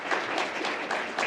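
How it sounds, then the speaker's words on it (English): Audience applause at a school board meeting, a steady wash of many hands clapping, fairly close and continuous for a moment, with no voices over it. "Can we give a round of applause, please, for the people who asked these wonderful questions?"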